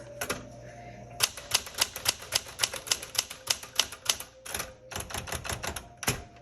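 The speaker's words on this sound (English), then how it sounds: "a classic or a Galaxie Smith Corona typewriter" Keys of a 1973 Smith Corona Galaxie Twelve manual typewriter strike in a steady run of crisp clacks, close and loud, with a short pause and a final bell-like ding, and no talking.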